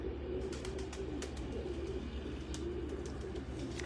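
Pigeons cooing steadily in a low, rhythmic warble from a rooftop loft of racing birds in Faisalabad, with faint chirps and light rustling on top, continuous and fairly close throughout.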